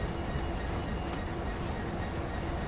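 Class 66 EWS diesel locomotive in the Train Sim World game, rolling along with a steady, dense rumble of engine and wheel noise, close and constant throughout.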